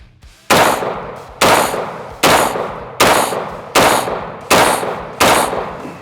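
Seven sharp, loud gunshots fired at a target at a shooting range, spaced roughly evenly about one per second, each a hard crack with a short ringing decay and no talking.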